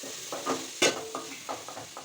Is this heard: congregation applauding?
no